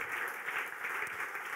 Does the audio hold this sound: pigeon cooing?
no